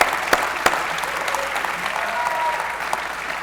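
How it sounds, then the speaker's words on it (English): Sustained audience applause at a lecture-series event honoring students, steady and dense clapping from a crowd with a couple of sharp individual claps near the start. "Give them another round of applause."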